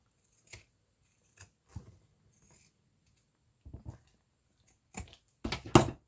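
Scissors snip through the pages of a small children's book, a few sparse cuts spaced apart, then a louder burst of close paper handling at the end.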